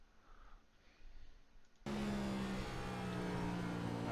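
A Next Gen race car in the iRacing simulator at Richmond cuts in suddenly with a loud, sustained engine drone after a near-silent start, holding a steady, buzzing tone to the end.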